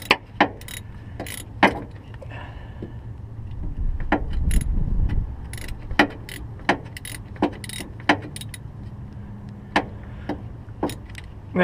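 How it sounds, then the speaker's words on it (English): A ratchet wrench loosens the drive shaft bolts on a 1994 Ford Ranger 4WD, giving scattered sharp clicks in short irregular runs, with a low metallic rumble of handling underneath. "I'm gonna have to use the ratchet."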